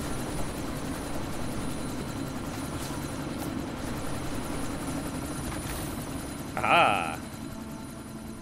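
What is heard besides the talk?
helicopter in Deus Ex Mankind Divided video game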